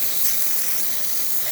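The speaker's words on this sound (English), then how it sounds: "Nice strong steam." Steam wand on a freshly serviced Isomac espresso machine releasing a strong, steady hiss of steam, loud and close, continuous throughout with no talking.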